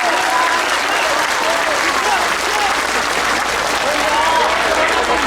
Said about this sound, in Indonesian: Tepuk tangan untuk BMI